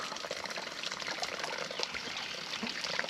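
A small waterfall trickles and splashes steadily near a creek crossing on a wooded hiking trail, close and continuous with a bright, bubbling wash and no voices.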